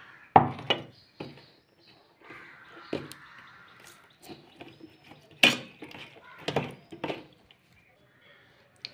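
A knife chops dates into small pieces on a board with a few sharp, irregular taps spaced apart, close and fairly quiet, with soft handling sounds in between.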